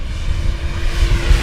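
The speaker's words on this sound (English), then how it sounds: "Nice flying airplane." A Flightline 1600mm F4U-1D Corsair RC model airplane flies overhead, its electric propeller motor giving a loud, steady droning whine with slight surges throughout.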